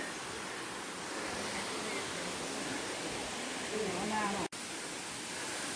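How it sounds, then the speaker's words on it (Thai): Ko Luang waterfall in Mae Ping National Park, Lamphun, gives off a steady, full rushing roar of falling water, broken only by a momentary dropout near the end. "ถึงแล้วครับ น้ำตกก้อหลวง"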